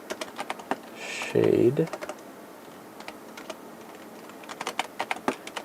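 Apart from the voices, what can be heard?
typing on a computer keyboard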